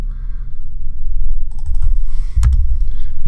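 Several quick keystrokes on a computer keyboard, with a sharper clack near the middle, close and fairly loud over a steady low room hum.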